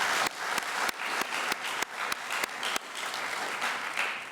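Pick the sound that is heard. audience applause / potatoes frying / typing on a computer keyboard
audience applause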